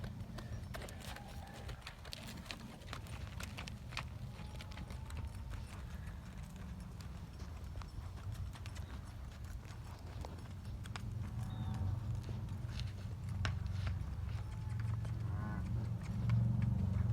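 Steady rhythmic hoof clip-clop from a young bronc colt loping under saddle for its first ride in New Mexico, moderately close, continuing throughout over low rumbling background noise.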